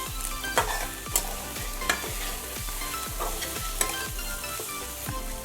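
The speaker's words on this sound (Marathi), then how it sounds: "थोडंसं हलवून घेते नाहीतर मसाला जळण्याची शक्यता असते" Spice masala frying in a pan for samosa filling, with a constant close sizzle and a regular rhythm of spoon scrapes and taps as it is stirred.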